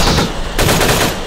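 Dense, rapid gunfire from the Halo: Custom Edition PC shooter during an online capture-the-flag match, a loud continuous burst of overlapping shots that fills the whole moment.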